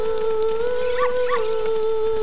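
A puppy in the game Ocarina of Time lets out two short, rising whimpering howls over a steady droning tone of game music, followed by a faint squeak.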